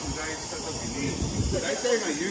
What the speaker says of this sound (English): You can see the steam.